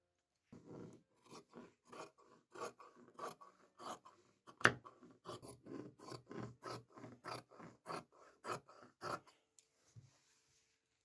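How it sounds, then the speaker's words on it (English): Scissors cut a strip of fabric for a patchwork button-up shirt with a series of rhythmic, close snips and rasping cuts, repeated steadily with short pauses between strokes. "just gonna cut a strip"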